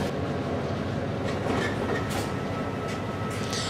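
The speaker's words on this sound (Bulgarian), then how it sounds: "Влаковете потеглят към гара Аточа" Commuter trains roll toward Atocha station in Madrid with a loud, steady rumble of rail noise and faint clacking wheels, close and continuous.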